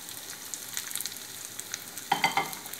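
Onions frying in a hot pan, a steady soft sizzle with a few louder crackling bursts near the end as the pieces are stirred; no voices.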